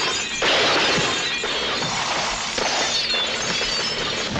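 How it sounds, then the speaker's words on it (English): Dense crashing and shattering of glass in the action film Hard Boiled, with bursts of breaking sounds layered over a loud, continuous chaotic din. "so much glass is breaking."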